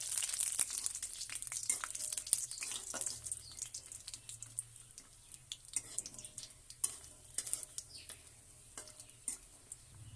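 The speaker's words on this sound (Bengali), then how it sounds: "তেল গরম হয়ে গেছে, দিয়ে দেবো বড়ি। বড়িগুলোকে একটু ভেজে নেব।" Bori lentil dumplings fry in hot oil in a wok, giving a soft, steady sizzle with scattered crackles and pops, faint and close, with no voices.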